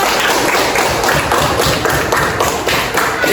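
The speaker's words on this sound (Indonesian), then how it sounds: "kasih aplaus untuk Raden" Students in a classroom applaud a classmate, a dense, loud burst of hand clapping that keeps going steadily throughout without talk.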